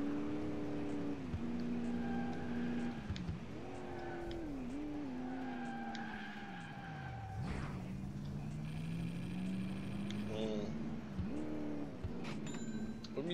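Engine of a race car in the video game Alarm für Cobra 11 revs and accelerates hard with gear shifts, tire squeal and skids throughout, loud and continuous, with a voice talking faintly underneath.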